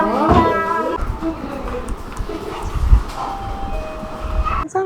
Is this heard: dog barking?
yes